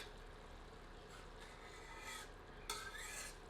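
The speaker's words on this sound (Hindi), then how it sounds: "एक बार अच्छी तरह करछी चलाते हैं और आंच मध्यम करके इसे 2 मिनट भूनते हैं" Lentil dal tempering stirred with a ladle in a pan over medium heat, giving a steady scraping, rasping stir under a soft background sizzle, with a sharper scrape near the end.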